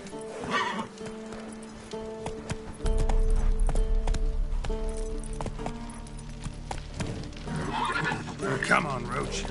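Roach, the horse in The Witcher 3, neighs and whinnies while its hooves pound in a galloping clip-clop that grows heavier, mixed with a voice urging it on.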